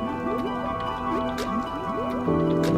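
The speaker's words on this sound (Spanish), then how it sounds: "Venga, salpicamos un poquito para ver." Wet ink splatters and squishy drips from the video game INK, a run of quick liquid splashes over a tonal game soundtrack, growing denser near the end.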